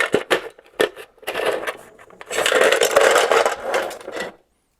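Spare parts being rummaged through in a box, a close run of clattering, scraping and rattling bursts of small hard pieces, with brief pauses between loud handfuls and no talk.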